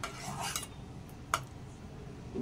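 Stirring kulith (horse gram) flour pithi in a pot, soft scraping and stirring movements with a sharp clink of a utensil against the pot about midway, fairly quiet.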